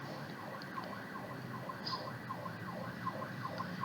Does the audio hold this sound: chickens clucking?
no